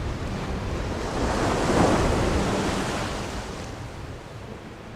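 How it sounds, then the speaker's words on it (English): Ocean waves break on the shore in a steady, roaring wash of surf that swells to a peak partway through and then slowly recedes, with some wind noise and no voices. "The first thing you hear are the waves."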